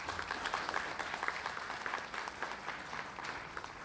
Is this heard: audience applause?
yes